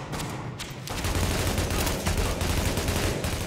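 Rapid bursts of gunfire crackle in The Division, dense repeated shots rattling continuously at close range over low rumbling combat noise.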